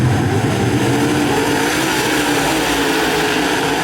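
Several race cars roar together at full throttle as a dirt-track heat race gets the green flag, a loud, continuous, dense engine blare with rising revs and no pauses.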